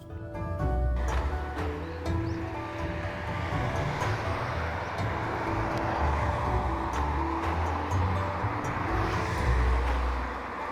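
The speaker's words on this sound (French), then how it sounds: "Nous devons nous accoutumer à la circulation dense et à la conduite à gauche." Steady, dense traffic rumble with vehicles driving on the left droning past nearby, low engine hum continuous throughout, no voices.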